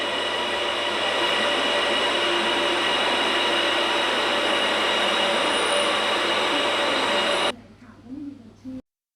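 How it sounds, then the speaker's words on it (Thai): An Airport Rail Link City Line train pulls into Phaya Thai station in Bangkok with a loud, steady rumble and high wheel whine, then cuts to quieter platform noise. "เรามารอกันอยู่ที่สถานีพญาไทนะครับกำลังรอรถเข้าเลยครับ"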